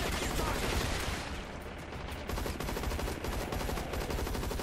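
Rapid gunfire crackles in a cover-based shooter video game, dense and continuous bursts filling the whole moment, close and loud with no pause.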